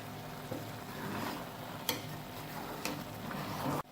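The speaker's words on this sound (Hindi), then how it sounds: "आराम से चमचा चलाएंगे, चावल टूटे नहीं।" A spoon gently turns beef pulao rice in a pot, soft scraping and shuffling with a few sharp clinks against the metal, quiet and close with a faint sizzle underneath.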